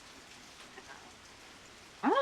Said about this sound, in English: Unfortunately, it's pouring rain now.